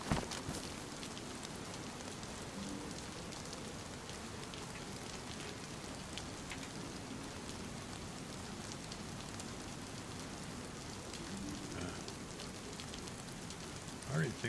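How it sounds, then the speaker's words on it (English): Rain patters in the video game The Last OutBreak as it grows dark, a constant soft hiss of drops on surfaces with a few louder knocks near the start and end. "Getting dark now, it's starting to rain."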